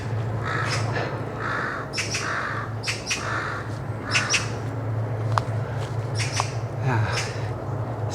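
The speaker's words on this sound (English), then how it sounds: "I can hear magpies. There's magpies up here. Yeah, and crows are over there still." Magpies and crows calling in a green forest park, repeated harsh squawks and caws at middle distance over a steady low rumble, with faint talk.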